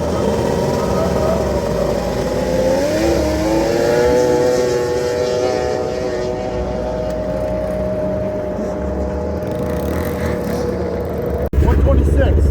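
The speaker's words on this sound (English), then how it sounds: "this fella with the old ZRT is gonna squeeze some nitrous. You'll hear it come on. We'll hear her pick up a few RPMs." Old ZRT race boat engine running loud and steady on a lake, its tone rising in pitch a few seconds in as the nitrous comes on and the revs climb, then holding high under wind and water noise.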